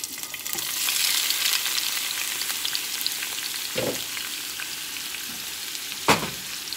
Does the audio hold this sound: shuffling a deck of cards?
no